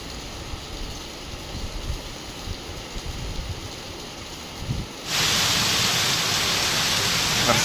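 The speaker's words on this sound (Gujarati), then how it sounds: "જોરદાર વરસાદ દેવગામના બસ સ્ટેન્ડમાં" Heavy rain hammers down at the bus stand in Devgam village, a steady wash of noise that suddenly swells louder partway through and stays dense and constant.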